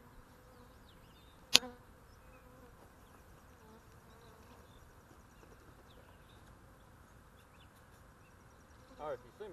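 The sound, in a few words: honey bee swarm buzzing on a pine tree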